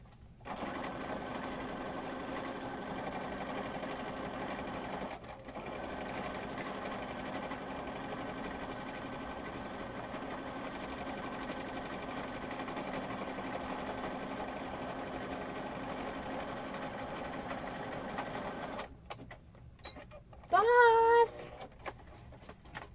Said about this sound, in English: I'm going to sew around the outside edge